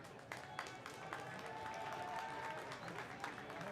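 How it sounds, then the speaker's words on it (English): Crowd applause at a college baseball game, Bethune-Cookman at Florida, for the ball boy retrieving a foul ball, a moderate rolling round of clapping heard from a distance under the broadcast ambience. "The ball boy getting a pretty big round of applause as he goes to get that ball"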